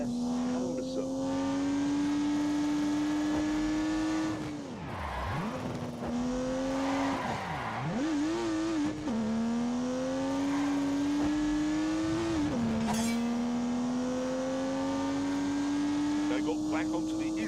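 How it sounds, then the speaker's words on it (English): A turbocharged 3-litre straight-six in The Grand Tour racing game revs and climbs through gears, pitch rising steadily then dropping at each shift, loud and continuous with tire noise and a voice talking over it. "unleashed 360 rampaging horsepowers from the turbocharged 3-litre straight 6"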